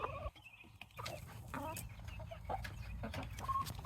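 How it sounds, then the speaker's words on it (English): Backyard chickens cluck and murmur close by in a garden coop, a series of short, uneven clucks and squawks with a faint high chirp near the end, no talking. "So, these chickens are being nosy."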